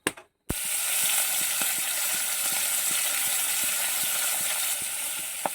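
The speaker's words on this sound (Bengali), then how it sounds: "চলো মাছটা ভেজে নিই" Fish fries in a pan with a bright, continuous sizzle that cuts in after a brief silence, then carries on steadily, with faint regular ticks beneath the hiss.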